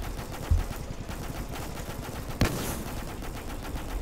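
An anti-aircraft gun firing in the Roblox tank game Armored Patrol: steady, rapid automatic fire with a rattling, even cadence and two heavier thumps standing out, heard alone without voices.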